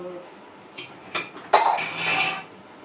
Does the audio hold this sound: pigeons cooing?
no